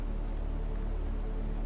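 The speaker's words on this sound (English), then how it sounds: "It's a rainy autumn morning." Steady rain falls on a rainy autumn morning, a continuous even patter and hiss that holds at a constant level throughout with no voices.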